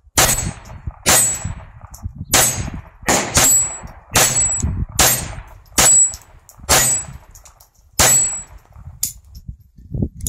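Rapid series of about ten .22 LR shots from a Phoenix Arms HP22A pistol at a steel target 10 yards away, each sharp crack followed by a ringing metallic clang, fired in an uneven steady rhythm with no talking.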